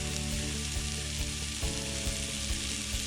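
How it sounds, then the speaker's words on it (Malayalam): Ivy gourd (kovakka) thoran cooking on low heat gives off a steady, even sizzle with faint stirring ticks, close and continuous, with no voices. "സിമ്മിലിട്ടതിന് ശേഷം ഇതൊന്ന് മൂടി വെച്ച് വേവിച്ചെടുക്കാം"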